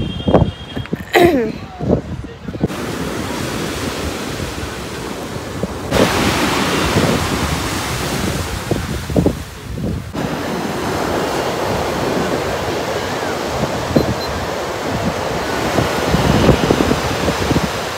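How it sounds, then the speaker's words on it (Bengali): Sea wind gusts and ocean surf wash steadily onto the beach at Puri, with a loud, continuous roar and heavy wind buffeting on the microphone, broken by a few sharp handling knocks early on. "হাওয়াটা আমার কাছে ভালোই লাগছে, সমুদ্রের হাওয়া বলে কথা।"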